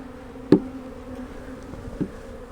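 Close, steady buzzing of honey bees at an open hive hums throughout, with a couple of brief louder passes near the listener.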